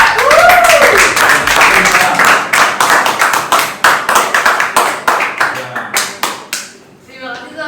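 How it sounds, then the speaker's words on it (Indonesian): Classmates in a classroom clap for several seconds after a group presentation. The applause is close and loud and thins into scattered taps near the end, with a voice speaking briefly over the start. "Beri tepuk tangan untuk teman-teman yang lain"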